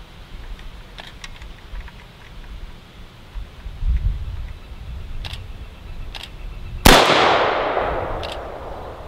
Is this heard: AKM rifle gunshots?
yes